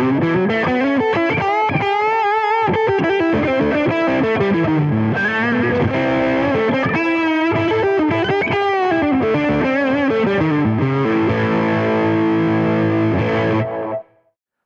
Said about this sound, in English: Let's hear this guitar when I move the pickup selector to using both pickups